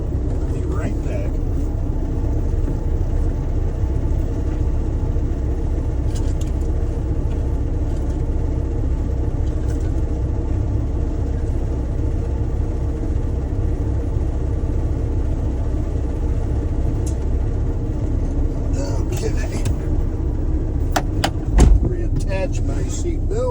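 A truck engine idles with a low, steady rumble throughout, held running to build air brake pressure inside the cab, with a few faint clicks and knocks near the end.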